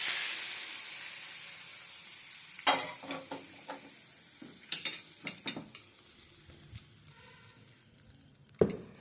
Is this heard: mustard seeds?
yes